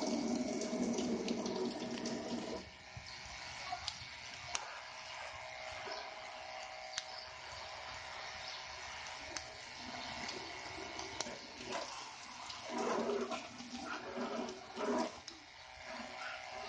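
A Shell 12 volt DC high-pressure pump sprays water in a steady hissing rush, continuous and fairly close, with brief shifts in the spray's tone throughout.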